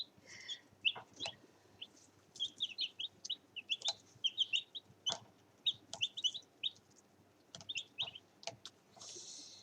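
Chickens and chicks in a pen: bursts of high, thin peeping from chicks scattered among soft clucks and short scratchy rustles, fairly quiet and close, with brief gaps between calls.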